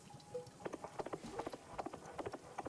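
Horse hooves clip-clop in an irregular trotting rhythm from a jukebox in the Wanderstop video game, quiet and soft, with a brief tone near the start.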